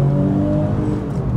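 Porsche 911 996 GT3 MK1 being driven, its engine holding a loud, steady, tonal drone with strong harmonics and no speech.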